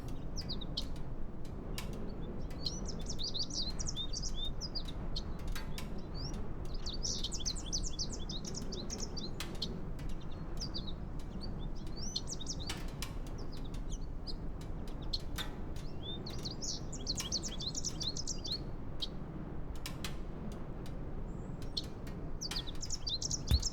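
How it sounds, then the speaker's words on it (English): Birds chirping in repeated bursts of bright tweets from a flight simulator game, set in Aspen, heard over a steady low ambient rumble with no talk. "Right, here's the birds."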